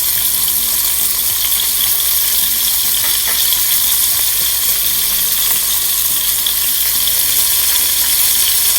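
A piece of fish, seasoned with salt and pepper, fries in a hot pan while Thai noodles are cooked: loud, continuous crackling sizzle filling the whole stretch, close and steady, with faint stirring and no talk.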